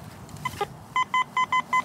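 A metal detector rings on a buried target read as a silver Washington quarter. About five clear, evenly spaced high beeps sound loud and close after a few softer blips.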